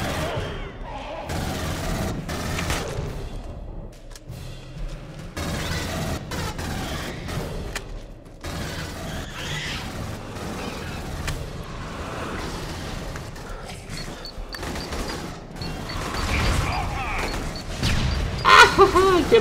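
Gunfire from the Aliens: Colonial Marines video game: continuous bursts of shots and booming blasts across the whole stretch, loud and dense, mixed with game music, with voices shouting over the fight.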